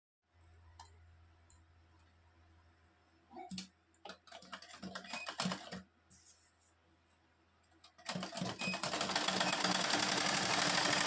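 A household sewing machine stitches the border of a sari at home, with several short bursts of rapid mechanical clatter followed by a louder, steadier whirring run nearby.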